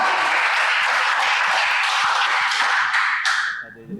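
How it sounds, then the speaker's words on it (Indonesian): An audience breaks into loud applause, a dense wash of clapping that continues for several seconds before fading out abruptly. "Tepuk tangan dong"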